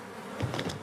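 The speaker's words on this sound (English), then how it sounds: "Releasing mutated weaponized bees to eradicate Black Ops." Swarm of mutated weaponized bees in a video game, a dense buzzing drone that swells into louder, wavering hums partway through, with no voices over it.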